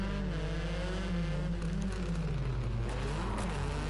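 Rally cars racing over a jump in the video game Rally Fighters, a loud continuous engine drone with wavering pitch as the motors rev and shift, no talk.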